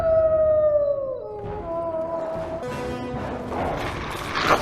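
Wolves howl in a Narnia fantasy film scene, a long clear howl sliding downward followed by several overlapping howls, loud and close, with rumbling and crashing movement building toward the end.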